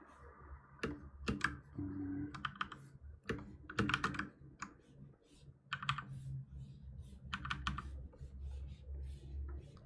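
Keys on a computer keyboard clack in irregular bursts of rapid typing, close and crisp, with short pauses between runs and quiet background hum.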